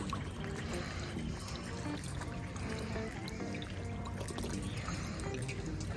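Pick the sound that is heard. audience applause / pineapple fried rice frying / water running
water running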